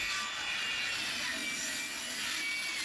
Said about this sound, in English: To do this, Sam used a circular saw to carefully cut away the overhanging sections.